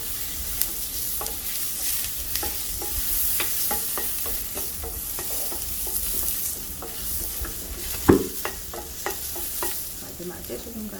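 Carrots stir-fried in a pan for spicy japchae with flat glass noodles, giving a steady close sizzle with repeated scraping and stirring clicks from a utensil and one sharper knock near the end, no talk.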